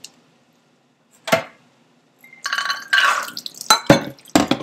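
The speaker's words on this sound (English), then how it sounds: "So I'm just going to rinse off any of that soaking water." Water splashes and trickles in bursts over soaked legumes being rinsed, with clinks and a sharp knock against a pot or strainer, close by.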